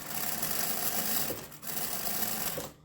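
A sewing machine runs steadily while stitching an apron at home, a close continuous mechanical whir that pauses briefly in the middle, resumes, then stops at the end, with no talking.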